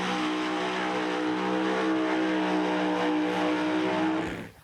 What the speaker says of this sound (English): Funny Cars up next.